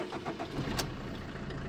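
A 2018 Maruti Swift Dzire diesel engine starts, with a brief burst as it catches and then a low, steady idle rumble, all fairly quiet.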